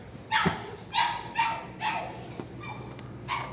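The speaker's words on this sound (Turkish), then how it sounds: "Oraya kapatmışlar bir tane köpek." A dog shut in at a historic caravanserai barks repeatedly from a short distance, about six sharp barks at a steady pace, echoing slightly indoors.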